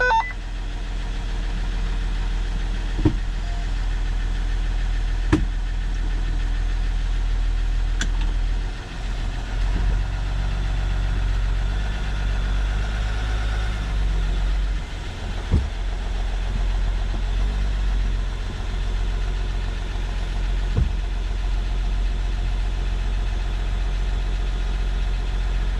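A four-wheel drive vehicle's engine runs at a steady idle with a low, continuous rumble, close by and fairly loud, broken by a few brief knocks and clicks.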